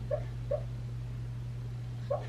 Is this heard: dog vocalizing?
yes